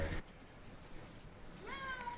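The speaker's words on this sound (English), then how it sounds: "Oh, kitty cat." A house cat meows on a cold day, a rising, wavering cry near the end that follows a stretch of faint background noise.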